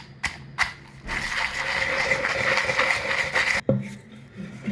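Chillies and salt pounded in a stone mortar for a green leaf chutney, a few sharp knocks at the start, then a steady grinding scrape for several seconds before a final thud and more taps.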